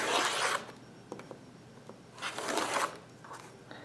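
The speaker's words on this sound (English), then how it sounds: "I'm going to move the ruler back to 3 inches and cut." A rotary cutter slices through quilting fabric along a ruler on a cutting mat in two long, close rasping strokes, with softer handling noises in between.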